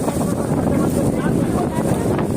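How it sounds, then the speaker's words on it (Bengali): Strong wind on the Meghna river buffets the microphone in a loud, continuous low roar with gusty rumble, filling the whole stretch. "প্রচুর পরিমাণ বাতাস"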